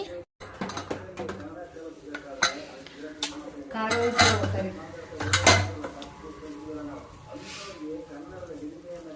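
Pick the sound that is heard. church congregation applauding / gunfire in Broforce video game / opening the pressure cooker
opening the pressure cooker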